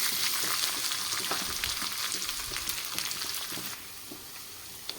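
Ginger and garlic sizzle and fry steadily in a hot pan, a continuous close crackle with occasional stirring scrapes, fading slightly toward the end.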